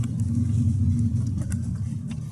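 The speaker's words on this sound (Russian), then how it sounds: "Поэтому включаем газ, потому что мы должны экономить максимально. И едем дальше." Skoda Octavia 1.8 TSI running on LPG gas while accelerating, a steady low engine rumble heard from inside the car, continuous and moderately loud with no talk.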